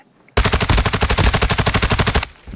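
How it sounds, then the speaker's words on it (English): Gunfire erupts in a shooter video game, a loud, rapid burst of about twenty evenly spaced shots lasting roughly two seconds, close and alone. "I just got sniped."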